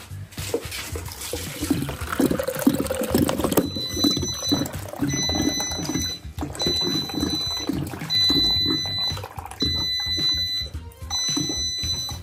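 Water is poured from a large jug in a steady, continuous splashing stream, close and fairly loud, with beeping tones repeating in the background during the second half.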